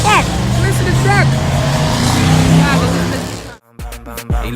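A big truck roars and revs loudly nearby while racing at a car meet, the engine noise dense and sustained under excited talking, then cutting off into short knocks and bumps.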